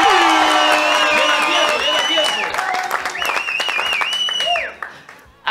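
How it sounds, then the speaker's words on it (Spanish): A television studio audience claps and whoops in a loud burst that fades away near the end, with high whistle-like cries over the clapping. "Un aplauso, por favor"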